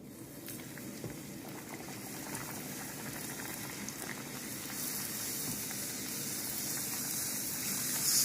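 Colored puris deep-fry in hot oil, giving a steady, dense bubbling sizzle that holds evenly and swells slightly louder near the end, close up with no voices.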